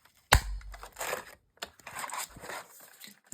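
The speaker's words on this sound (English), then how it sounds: "I'm going to use my circle punch. This one is the 2-inch." A 2-inch circle punch cutting through stiff paper, one sharp loud clunk followed by rustling, crinkling handling and another softer punch, close and without voices.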